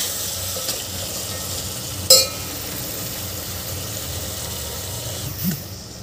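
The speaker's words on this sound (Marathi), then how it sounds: "या भाज्या आपल्याला छान मिक्स करून घ्यायचे आहे." Carrot, beetroot and French beans being mixed in a hot pan for masale bhat, a continuous low sizzle with a single sharp scrape of the spoon and a soft stir near the end, no talking.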